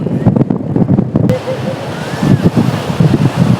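Sea waves wash and break on a beach at sunset, a steady roar of surf with wind buffeting the microphone, while people talk and call out nearby throughout.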